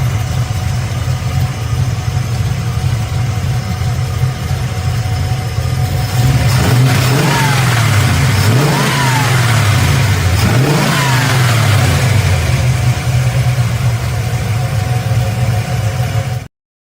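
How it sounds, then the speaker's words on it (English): A powerful small block Chevy V8 car engine revs loudly and close up, rising and falling through several throttle blips over a steady, heavy idle rumble, with no talking. "Small block Chevy with a bunch of power."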